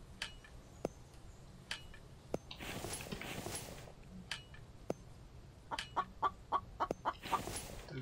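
Rooster clucks and scattered sharp clicks from the video game The Infected, low and fairly faint over a steady background, with a quick run of rhythmic clucks near the end.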